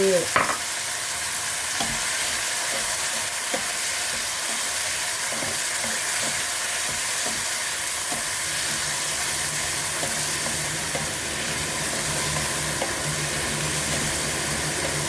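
Snow peas and scallops stir-fry in a pan after a splash of water goes in, giving a steady hissing sizzle with steam and intermittent spatula scrapes and taps against the pan, close and continuous with no talking.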